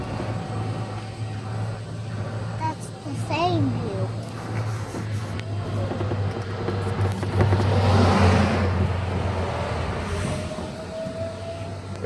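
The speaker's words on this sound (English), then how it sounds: "There's a Buick." A Buick car passes on a street in Panama City, a steady broadband road rumble swelling near the middle, with traffic noise around and a voice speaking nearby.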